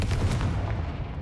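A Confringo blasting spell cast in Hogwarts Legacy bursts as a sharp explosive boom followed by a short rumbling decay, loud and close, with no talking.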